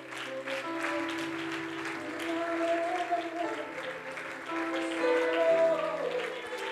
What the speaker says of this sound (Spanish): Esas palmas para el Señor.